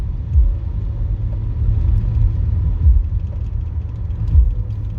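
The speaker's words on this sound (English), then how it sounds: "The big old garbage truck just pulled in front of me" A big old garbage truck's engine rumbles close and loud as it pulls in ahead, a steady low drone with a few surging swells and no talking.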